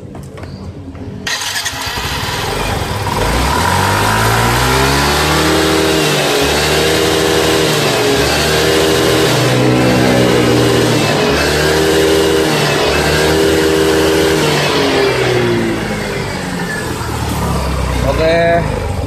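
Yamaha Mio-series scooter with an engine fault that makes it stall and sputter when throttled, revving loudly up and down in a close, continuous run with rising and falling pitch; a voice is heard over the engine.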